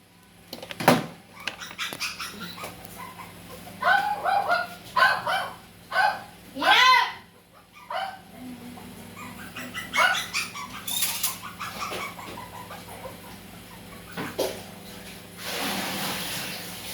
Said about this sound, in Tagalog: Sawayin nyo nga yung mga aso na yan. Ingay.